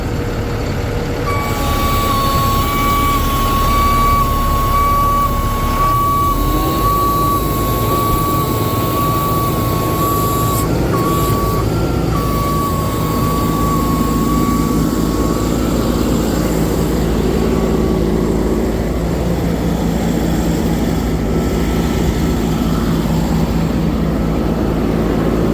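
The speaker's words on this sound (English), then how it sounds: "We're gonna go ahead and activate the PTO." Ford F750 Super Duty forestry bucket truck from 2010 idling steadily with its PTO engaged, a loud continuous diesel drone with a whining tone in the middle and no talking.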